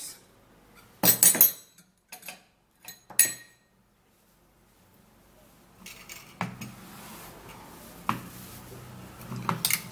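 A spoon clinks against a glass while stirring two tablespoons of an ingredient into aloe vera juice, giving a few sharp clinks followed by softer scraping and tapping, close and fairly quiet.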